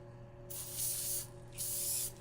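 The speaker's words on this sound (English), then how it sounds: "I just sprayed myself though." Two hissing bursts from a spray can, each lasting under a second, close by and fairly quiet, with a faint hum underneath.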